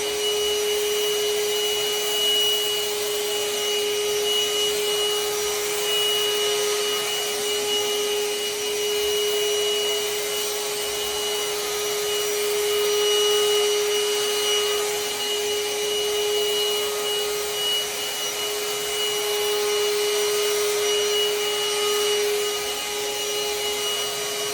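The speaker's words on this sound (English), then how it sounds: "Only with one pass and he's doing an amazing job cleaning all the carpet." A Parkside 20V cordless handheld vacuum cleaner runs on carpet with a steady, close motor whine and an airy suction hiss that stays even and unbroken throughout, with no voices.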